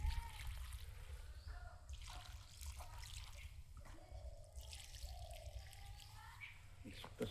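Water is poured onto a newly planted calendula plant in soil, a faint trickling and dribbling under a steady background rumble.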